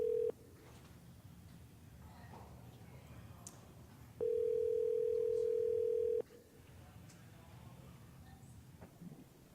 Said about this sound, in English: so we're going to try to call Mr. Susan in